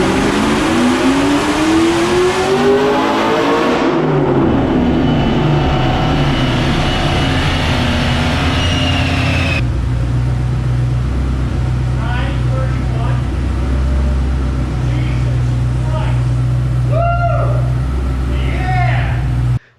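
A Tesla electric car run hard on a dyno, a loud sustained rising whine with a climbing tone for several seconds before it drops to a steady roar, and voices come through over the machine noise toward the end.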